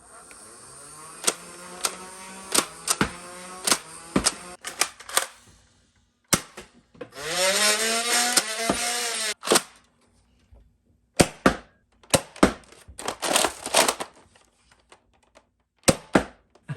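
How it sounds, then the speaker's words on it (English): Nerf Ultra blasters firing darts, a series of sharp close snaps and pops with a whirring motor spin-up between some shots, irregularly spaced and without talk. "I'm just going to fire a couple shots of a few other Ultra Blasters"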